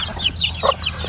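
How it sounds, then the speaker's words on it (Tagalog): Farm chickens and young chicks coming back in the afternoon, a steady run of close, high peeping chirps with one louder cluck partway through, all over a low outdoor rumble. "Dahil hapon na nagsiuwian ng mga manok."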